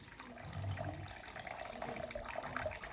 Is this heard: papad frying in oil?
no